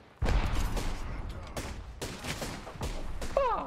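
Rapid bursts of gunfire from an Apex Legends Season 4 match ring out in quick succession, loud and close over a short stretch, with a voice speaking over part of it.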